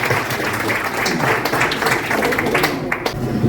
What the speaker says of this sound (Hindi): खड़े हैं, ताली तो होनी चाहिए उनके लिए।